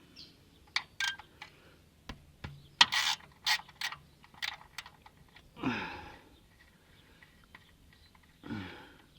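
A ratchet working a 14mm sump plug loose on a Toyota 1MZ-FE V6 engine, with scattered quick clicking bursts and a few short rasping pulls, close and fairly quiet, with no talking.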